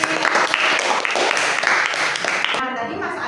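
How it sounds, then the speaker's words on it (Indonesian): A burst of applause, many hands clapping together loudly for a few seconds before stopping abruptly, followed by a voice speaking. "Tepuk tangan untuk Mas Agil."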